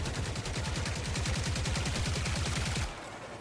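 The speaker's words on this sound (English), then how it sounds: "I just shoot them kind of for" Rapid automatic gunfire in the game Marathon, a steady fast burst of evenly spaced shots lasting close to three seconds before stopping abruptly, with only a faint background hum left afterward.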